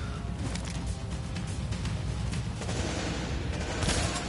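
Constant rapid gunfire in Tom Clancy's The Division, a dense stream of shots with booming low thuds, steady and loud across the whole stretch, with no talk over it.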